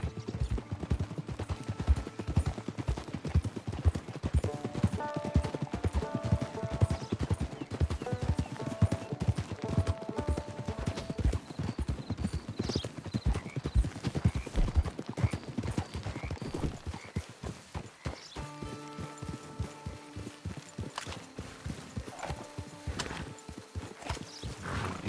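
Horse hooves clip-clopping in Red Dead Redemption 2, a rhythmic run of hoofbeats over a musical score, with whinnies and distant bursts of gunfire, fading to a slower pace near the end.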